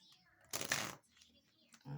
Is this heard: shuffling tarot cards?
yes